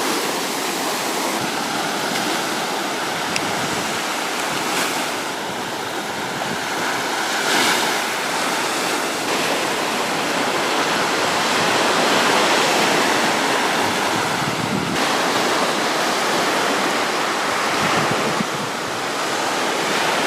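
Sea waves washing steadily onto the shore at Civitavecchia, a continuous broad roar of surf with some wind buffeting the microphone, no voices.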